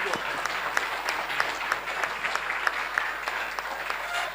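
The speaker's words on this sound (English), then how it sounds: "can they please stand up and give them a huge round of applause?" An audience at a provincial general council meeting in the Free State claps steadily and fairly loudly throughout, with scattered sharper individual claps standing out from the dense ovation.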